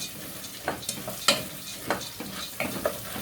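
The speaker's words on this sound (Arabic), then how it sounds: "اهو كده نفضل نحمر فيه بقى لحد نقلب فيه لحد ما تحمر" Pasta for yellow Alexandrian koshary fries and is stirred in a pan: soft sizzling under repeated scraping strokes of a spoon, several distinct stirs at an uneven rhythm, close and fairly quiet.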